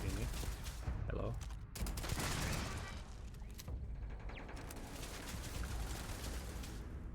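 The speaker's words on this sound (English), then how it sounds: "Who's shooting me?" Sustained gunfire from enemies shooting at the player in Starfield, a dense, continuous fusillade of overlapping shots with booming bursts, loud and close throughout.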